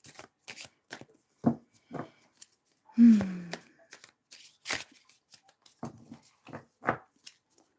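A large tarot deck being shuffled by hand, with a run of separate dry card riffles and slaps at an uneven pace, plus one heavier thump partway through, close and fairly quiet, with no talking.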